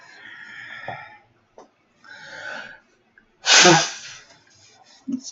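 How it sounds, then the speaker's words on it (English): Breathy inhales build up to a single loud, sharp sneeze, followed by quieter breathing and a soft sniff. "I'm gonna sneeze."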